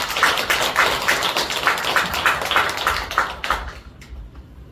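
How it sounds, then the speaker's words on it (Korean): An audience, including elderly attendees at a cultural lecture in Taebaek, claps in a dense burst to welcome a professor to the front; the applause stays strong, then tapers and stops near the end. "박수 부탁드립니다"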